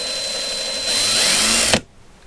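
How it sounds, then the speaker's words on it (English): A power drill with a bit spins against a carburetor jet held up to it, a steady high whine for nearly two seconds that rises slightly in load, then cuts off abruptly with a short clunk, leaving near silence. "hold it up to the drill bit, start spinning it"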